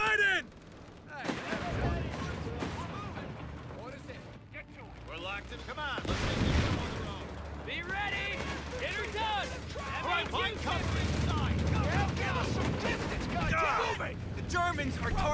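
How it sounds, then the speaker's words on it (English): Artillery shells and gunfire booming across a battlefield in the video game Company of Heroes 3, with repeated heavy blasts and rumbling impacts mixed under voices and game sounds throughout. "Germans are targeting our commandos with artillery."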